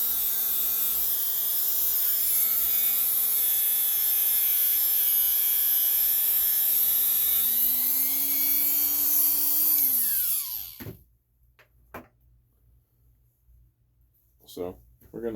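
A rotary tool cleaning the power valve of a KX85 motorcycle, a close high-pitched whine with a shifting pitch as it grinds, running steadily for about ten seconds before cutting off, followed by a few faint knocks.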